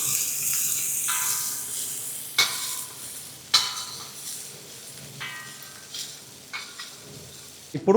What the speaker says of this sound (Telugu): ఆ తర్వాత 2 ఉల్లిపాయలండి, కట్ చేసిన ఉల్లిపాయలు వేసుకోవాలి.